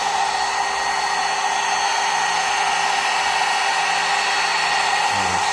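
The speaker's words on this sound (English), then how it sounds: "the spindle is running quite nicely. It's not too loud" CNC machine spindle motor driven at 400 Hz spinning steadily with a smooth, continuous high whine and airy hiss, unchanging and close for the whole stretch.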